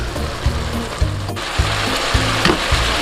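Steak and onions for a Philly cheesesteak frying in a single pan, a steady close sizzle with a soft rhythmic stirring and scraping pulse roughly every half second.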